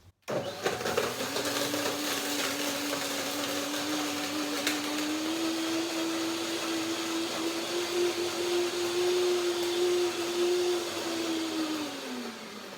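A blender whirs steadily for several seconds while blending a cayenne vinegar sesame seed dressing, at a constant pitch, rising slightly midway, then winds down at the end; close and loud.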